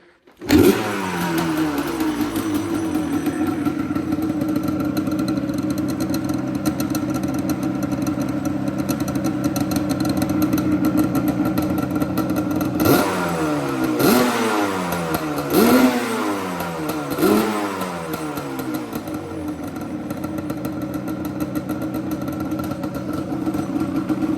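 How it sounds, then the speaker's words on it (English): A Yamaha Banshee ATV engine with stock factory exhaust starts cold and idles with a steady, muffled rumble, then revs up sharply several times in quick bursts before settling back to idle. "we're going to give you a quick little startup here with the factory exhaust"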